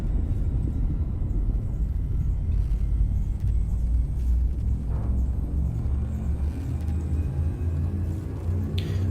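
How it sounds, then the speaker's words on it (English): Spaceship engines accelerating to warp speed in the space game Elite Dangerous, a steady deep rumbling roar that holds throughout with a brighter whoosh building near the end. "Jump. Accelerating to warp speed."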